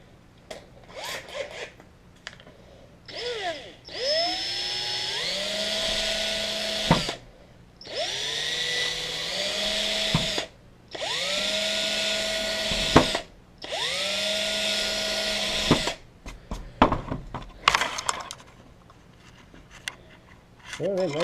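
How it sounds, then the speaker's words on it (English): A power drill whines up repeatedly in bursts of a few seconds each, pitch rising as it spins up, with short pauses between, close and clear, as a 7/16 bit drills out holes. "now we'll drill them out with the 7/16"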